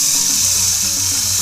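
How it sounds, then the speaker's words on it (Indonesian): Caught grasshoppers frying in a pan outdoors in a village setting, giving a steady close sizzle with a low hum underneath and no talking. "ini hasil tangkapan tadi akan langsung saya goreng"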